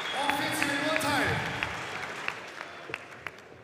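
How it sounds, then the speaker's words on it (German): Arena audience applauding after a women's boxing bout, a steady wash of clapping with a few sharp individual claps standing out as it slowly fades, while an announcer speaks over it. "Applaus für beide Kämpferinnen."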